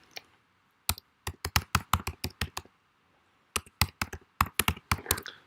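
Typing on a computer keyboard to name a Google Drive folder, two close bursts of quick, crisp key clicks separated by a short pause, in a quiet room with no talking.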